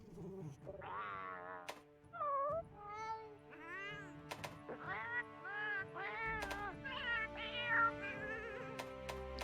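A Palico cat from the video game Monster Hunter Rise on PC gives a string of bright, sliding meows, some short and some drawn out, over a steady tonal game backdrop.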